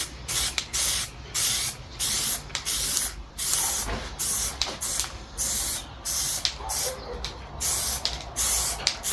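Aerosol spray paint hissing inside a salvage VW R-Line car, a series of about a dozen short bursts in steady rhythm, close and fairly loud, with brief pauses between sprays and no talking.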